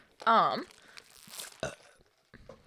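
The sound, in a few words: burping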